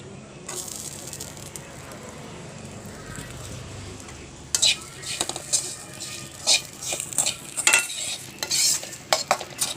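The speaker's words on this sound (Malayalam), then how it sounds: "തേങ്ങ വറുത്തെടുത്തിട്ടുണ്ട്, അതിലേക്ക് ഇഞ്ചി ഇട്ട് കൊടുക്കാം." Ginger is stirred into roasting grated coconut in a pan, with a low, constant sizzle that turns into repeated scraping spoon strokes in the second half.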